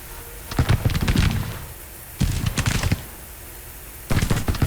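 Civil War musket volleys from a tactics game crackle in three dense bursts of many overlapping shots, each lasting about a second, with quieter battlefield ambience between them.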